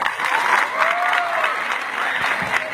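A crowd of students at a school farewell party gives dense, continuous applause that stays loud and even, with faint voices mixed in.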